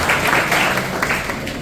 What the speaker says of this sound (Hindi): इसके लिए भी आप ताली बजाएं।